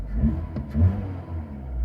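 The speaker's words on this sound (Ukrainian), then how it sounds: "Можна спробувати перегазувати" A petrol car engine idles close by, then revs up briefly and settles back, a short low rumbling surge with no talk.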